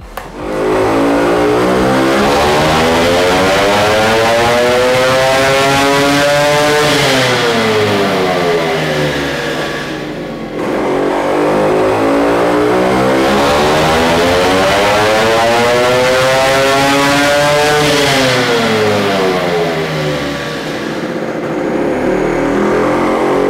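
A home-built 40 HP Vespa BFA 306 scooter engine on a testbench revs loudly through two long sweeping runs, its pitch climbing steadily, dropping back and climbing again, with no talk over it.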